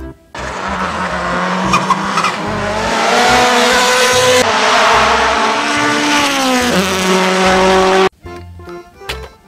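A blue toy race car plays a loud racing-engine sound with screeching tire squeals that holds for about eight seconds before cutting off abruptly.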